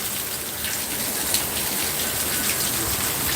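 Heavy rain pours steadily at night in Danang, a close, loud wash of falling water with scattered heavier drops spattering on surfaces.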